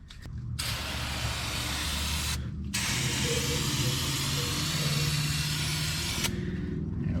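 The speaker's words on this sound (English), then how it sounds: "let's come in here and we're gonna spray outwards" A steady aerosol cleaner spray hisses almost continuously in a 1996 Toyota Camry engine bay, with two brief pauses between long bursts, loud and close.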